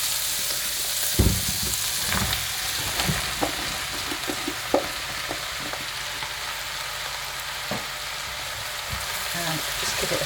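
Mushrooms dropped into spices frying on high gas for a vegan bhuna mushroom curry give a steady hot sizzle, broken by scraping stirs and sharp clicks of the spoon against the pan.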